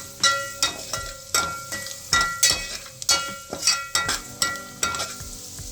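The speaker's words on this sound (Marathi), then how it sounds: "गरम मसाला हा तेलात परतून घ्यायचं छान। चांगलं तेल सुटलं पाहिजे।" Garam masala being fried in oil for a makul (squid) masala, a soft sizzle under repeated sharp scrapes and taps of a spoon stirring against the pan, steady and close, with no talk.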